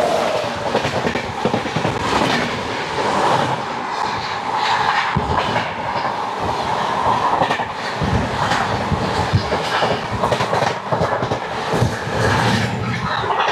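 Poorva Express running between Howrah and Delhi, with a loud, continuous rumble of wheels on rails and a rhythmic clickety-clack over the joints, with no talking.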